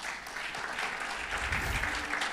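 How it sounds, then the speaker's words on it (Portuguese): A church congregation claps together in praise, a dense, sustained wash of applause that swells slightly toward the end, fairly distant and moderate in level. "Quero que você dê um aplauso bem forte ao Senhor."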